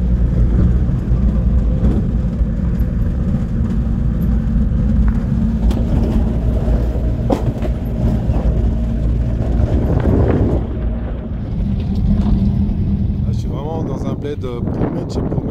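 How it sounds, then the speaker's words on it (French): A Nissan 4x4, now running in two-wheel drive, grinds along a rough dirt track in southern Madagascar, its engine droning loudly with steady rumble and wind buffeting, brief rattles and a voice emerging near the end. "Nissan qui était en 4x4 qui est maintenant en 2 roues motrices, mais elle dit que ça peut passer"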